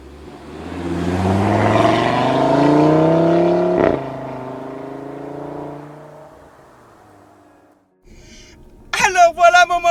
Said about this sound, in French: Aujourd'hui, je suis à bord d'une Audi TT RS 8S.